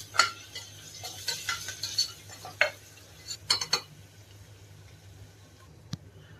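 Garlic paste being stirred into rice in a pan, a quiet series of scraping and clinking spoon strokes with a faint sizzle underneath, pausing near the end before one last tap.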